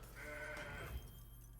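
A goat bleats in the Legends of Runeterra card game, one wavering, nasal bleat that is loud against the quiet game sounds and fades out after about a second.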